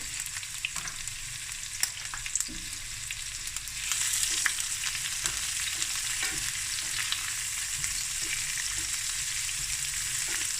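Chilies with red, green and yellow peppers frying in a pan for fried rice, giving a steady bright sizzle that swells after a few seconds, with occasional sharp clicks of stirring, close and unaccompanied by speech.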